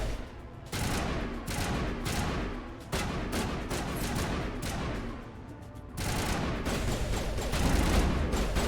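Gunfire in the video game Mass Effect, sustained bursts of shooting in clustered volleys with brief gaps, loud and close, with no voices over it.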